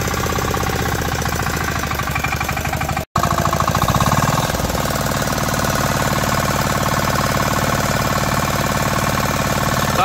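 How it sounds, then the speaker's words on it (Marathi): A tractor engine idles and runs steadily up close, readied for puddling a rice paddy, with a continuous loud, knocking mechanical chug and a brief cut partway through. "झालं ट्रॅक्टर रेडी झालो"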